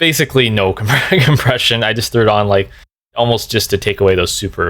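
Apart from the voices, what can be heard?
None of the usual background noises is heard.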